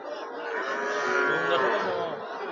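Cattle and young Sahiwal calves at a livestock market in Joypurhat, with one long, drawn-out moo rising and falling across the moment, moderately close over faint background bustle.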